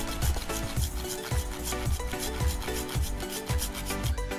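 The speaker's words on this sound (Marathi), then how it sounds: "तर चला पहिले आपण हे नारळ खिसून घेऊया" A coconut grated on a fine grater: rapid rhythmic rasping strokes, about two per second, close and steady, with no voices.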